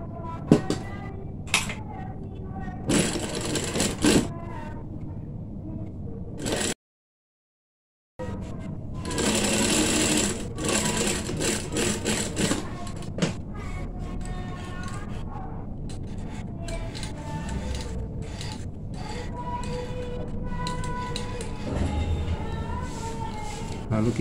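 Close-up sewing machine stitching a hoodie, running in uneven bursts of rapid mechanical chatter with one short full stop midway, then a longer continuous run.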